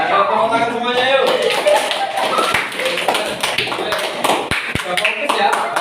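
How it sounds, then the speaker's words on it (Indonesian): Children in a classroom clap their hands in a quick, uneven patter of sharp taps, mixed with chatter and voices talking over it throughout. "Tepuk tangan semuanya yuk"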